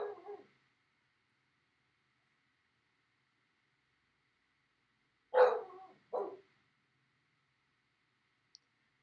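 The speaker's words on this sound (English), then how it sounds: "He's barking in the background again." A dog barks indoors in the background: one short bark, a long pause, then two quick barks close together, moderately loud against otherwise near silence.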